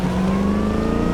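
A car engine in Cyberpunk 2077 revving under throttle, a steady low growl with a slowly rising tone, close and continuous for about a second with no voices.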